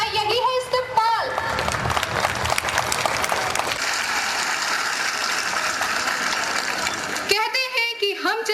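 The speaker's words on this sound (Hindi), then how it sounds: "यहाँ की तालियों की गूंज सूबे के कोने-कोने तक सुनाई दे।" An audience at a foundation day ceremony breaks into loud, sustained applause, with a voice heard before the clapping and again as it ends.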